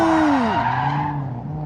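A drift car at the JK Tyre Drift Challenge at the Buddh International Circuit slides into oversteer, its tyres letting out a loud, close squeal that bends downward in pitch, with the engine droning beneath it.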